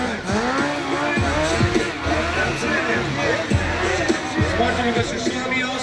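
A racing motorcycle in a stunt show revs hard in repeated rising and falling engine sweeps, close and loud, with a commentator talking over it and crowd noise beneath.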